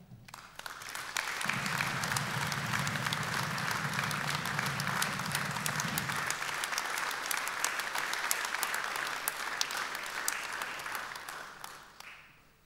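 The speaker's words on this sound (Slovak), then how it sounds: "váš potlesk už o malý okamih bude patriť tomuto skvelému pánovi, pán Ján Piatka." A seated audience at a city award ceremony claps, sustained dense applause that swells in, holds steady for about ten seconds, then tapers off near the end.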